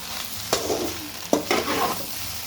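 Kothu parotta with egg, onion and pepper powder being stirred and fried in a pan, with a steady soft sizzle broken by a few sharp metal scraping strikes close by.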